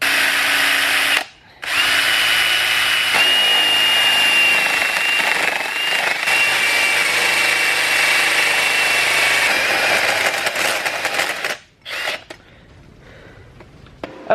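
A power drill whines loudly and steadily as it bores a hole into steel for a Miata turbo external wastegate, stopping briefly near the start, then running on before cutting out near the end.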